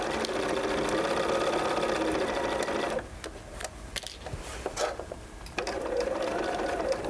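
A sewing machine stitches a jacket seam with a steady, close, fast whir. It stops for a few seconds with small handling clicks and rustles, then starts running again.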